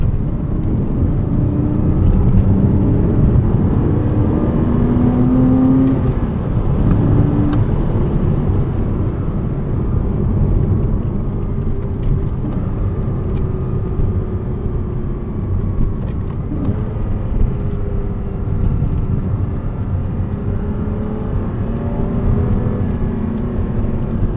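A 2009 Porsche Cayman S heard from inside while driving, a steady low engine drone with broadband road and tire noise, continuous and loud, with slight rises in engine pitch.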